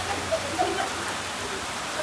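Steady rain falls in a continuous, even hiss with soft scattered patter throughout, no voices over it.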